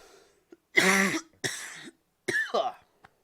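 Several harsh coughs in close succession, loud and near, with a brief throat-clearing sound between them.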